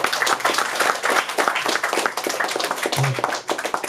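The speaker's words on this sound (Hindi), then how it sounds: "एक बार जोरदार तालियां।" An audience at a ghazal recital breaks into loud, dense applause from many hands, a sustained clatter of close clapping that carries on without pause.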